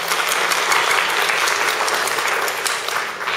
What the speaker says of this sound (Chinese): 我们再次拍手，